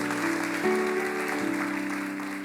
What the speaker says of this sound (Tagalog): Yun the best nga ang palakpak sa Panginoon